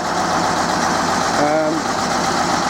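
A Ruston Bucyrus 22-RB excavator engine runs steadily just after its cylinder head was refitted, a continuous close idle with a brief rising tonal whine in the middle, while someone talks over it.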